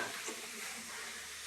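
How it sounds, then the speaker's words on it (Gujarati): Girnari khichdi cooking in a pot makes a soft, steady sizzle and hiss, faint and continuous, with no voices. "આજ તો ગિરનારી ખીચડી બનાવી છે"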